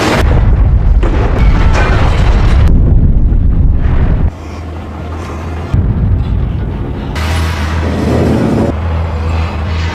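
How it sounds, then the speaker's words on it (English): A film explosion of dynamite blowing up in a man's hand among attacking cannibals in a frozen wasteland: a loud, sustained boom with deep rumbling and debris-like roar lasting several seconds, with a second surge later. "the dynamite suddenly exploded in his hand"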